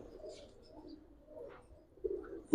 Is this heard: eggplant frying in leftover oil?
no